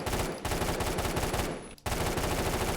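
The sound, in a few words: burst gunfire in video game Phantom Forces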